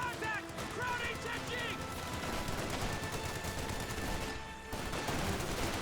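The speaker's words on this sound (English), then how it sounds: "MG42 suppressing down the paratroopers, and the MG42 is getting hit pretty hard" An MG42 machine gun keeps up suppressing fire against paratroopers in the World War II strategy game Company of Heroes, a dense spray of battle gunfire with a voice talking over it.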